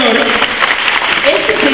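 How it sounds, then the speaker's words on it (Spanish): Audience applause at a talk on costs and social media in La Molina, a dense burst of clapping heard close and loud, with a voice speaking over it. "démosle fuertes palmas a todos, por favor"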